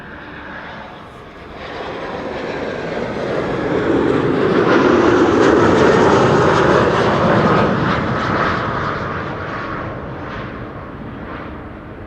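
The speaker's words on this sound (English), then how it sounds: "This is KLM flight 1068 arriving from Southampton" A KLM passenger jet arriving at Amsterdam Schiphol Airport on a sunny day, its engine roar swelling loud and broad as it passes close, then slowly fading while staying steady, with no voices.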